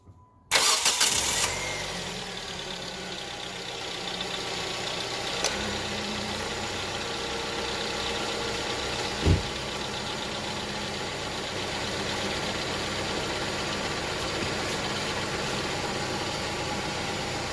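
A Hyundai Tucson engine cranks and catches with a loud burst, then settles into a steady, even idle that runs on without a break, after its belt tensioner and pulleys were replaced.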